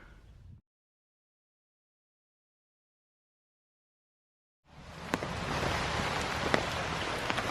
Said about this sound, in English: the day couldn't be complete unless the rains came out